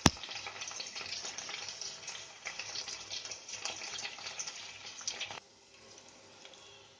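Spluttering sizzle of tempering seeds, onion, green chili and curry leaves hitting hot oil in a pan for a Telugu-style amaranth dal, loud crackling bursts that drop to a quieter fry near the end, no voices.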